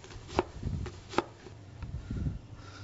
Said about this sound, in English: So when you're dicing the onions, you just want them the same size,